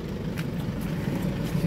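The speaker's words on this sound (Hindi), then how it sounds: "ये आप बाहर से आवाज़ सुन सकते हो कार की" An Isuzu MU-X SUV engine idles outside the vehicle, a steady low rumble at moderate distance with a faint hiss over it and no voices.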